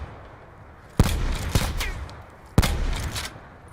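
In Call of Duty Black Ops 4, three sharp gunshot bursts crack out at roughly one-second intervals, each leaving a decaying echoing tail, loud and close, with no voices heard.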